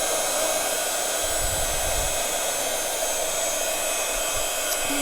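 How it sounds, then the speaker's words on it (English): A craft heat tool blows hot air continuously to dry twinkle spray on a canvas, a loud, steady whooshing roar close to the microphone with no pauses. "as long as you've got your trusty heat tool"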